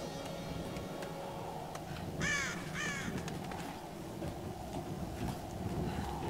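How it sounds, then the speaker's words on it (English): Crows cawing in the Tomb Raider video game: two harsh caws in quick succession rise midway over a steady rumbling ambient game background, fairly near and clear. "Goddamn birds!"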